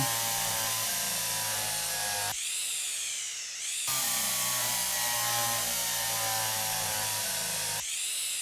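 Power drill whirring in Derail Valley during DE6 and SLUG EP47 customizing, two long loud runs separated by a brief pause, with a short restart at the end.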